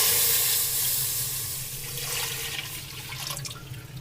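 One litre of milk poured into a pan to start a chocolate custard, a steady close liquid stream that slowly thins over four seconds, with no voices.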